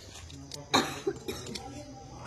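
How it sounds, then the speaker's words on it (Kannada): One sharp cough bursts out at home, followed by a couple of smaller throat sounds, while people talk quietly around it. "ಕೆಮ್ಮು"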